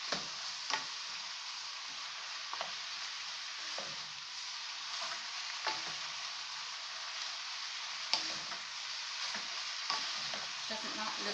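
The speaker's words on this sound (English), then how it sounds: "Just give everything a good mix." Chicken chow mein noodles stir-frying in a pan, a continuous soft sizzle with intermittent scrapes and clicks as everything is tossed, no talking.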